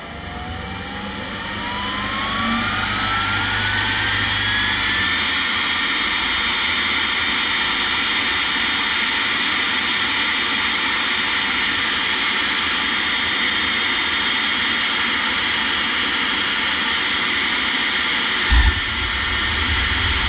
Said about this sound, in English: the diesel burner should kick on